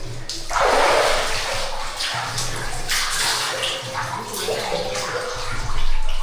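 Water gushes from a tank in a loud, steady rush that runs unbroken for several seconds, with faint background voices underneath.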